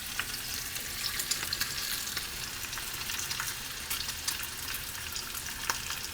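Food tossed roughly into a pot sizzles and fries continuously, with scattered crackles and pops over a steady hiss.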